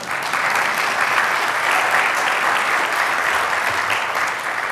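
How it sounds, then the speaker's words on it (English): An audience at a city's State of the City address gives a steady round of applause, a dense, even wash of clapping from a large crowd. "give her a round of applause"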